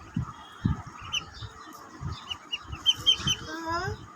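Ducks crowding around feed, close squawking and clucking calls in irregular bursts with scattered splashing or pecking, with a voice talking over them.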